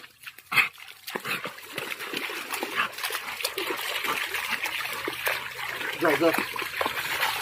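Water splashes and trickles as a golden retriever swims and moves through shallow water, with irregular sloshing and a few faint whimpers, and people talk quietly throughout.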